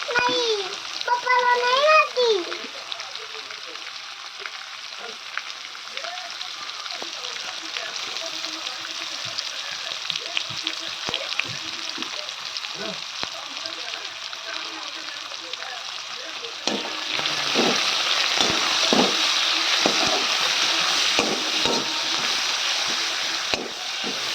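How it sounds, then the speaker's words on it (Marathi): Green chillies fry in a home kitchen pan with chopped onion, giving a continuous crackling sizzle that grows louder partway through, while an adult and someone talk nearby. "फ्राय करूया आपण त्या मिरचींना. हिरवी मिरची पण त्याच्यातच टाकून देऊया आपण."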